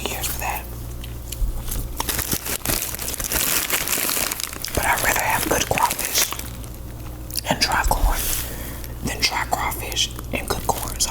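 Close, whispery mouth sounds of biting and chewing dry corn on the cob during a spicy crawfish meal, with soft crunches and wet chewing under quiet talk.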